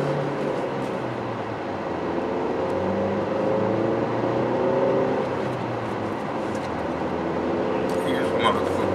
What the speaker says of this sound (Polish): I już pomalutku rozpędzamy auto i jedziemy.